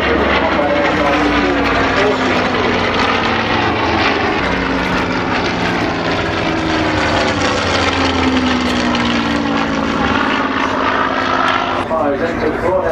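Avro combat aircraft flying at a Scottish and Southport airshow, its loud continuous propeller engine drone holding steady with a slowly shifting pitch throughout, heard under narration.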